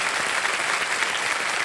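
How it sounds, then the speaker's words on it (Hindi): Studio audience on a televised quiz show bursts into loud, dense applause, a continuous roar of many hands clapping together with no gaps, close and full for the whole stretch. "एक बार फिर ताली बज जाए इन लोगों के लिए"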